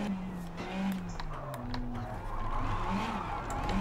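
A rally car in the video game WRC Generations swings through a hairpin on a handbrake turn, with tyres skidding and scrubbing over a steady engine drone while the pitch rises and falls; the sound is fairly quiet and continuous.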